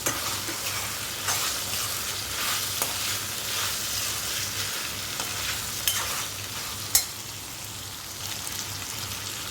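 Prawns, first tossed with turmeric in oil, added to frying ginger, garlic and tomato for royyalu bendakaya pulusu; a dense, even crackling sizzle like steady rain, with occasional light stirring clicks and one sharper knock.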